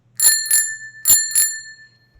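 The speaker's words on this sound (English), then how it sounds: "I hit the bell." A small metal bell, like a desk or bicycle bell, struck four times in two quick pairs, each ring bright and close, decaying with a lingering tone on a podcast set.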